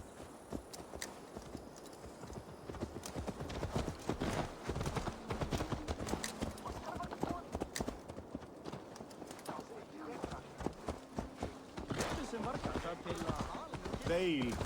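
Hooves clip-clop in a steady walking rhythm in Assassin's Creed Valhalla, close and clear, while people talk over them and a horse snorts now and then.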